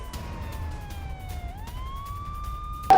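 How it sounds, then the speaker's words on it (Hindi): An air raid siren wails at Tel Aviv airport, one long tone sliding slowly down and then rising again to hold steady, loud and near, cut off by a sudden burst at the end. "तेल अवीव एयरपोर्ट पर सायरन लगातार बज रहे हैं"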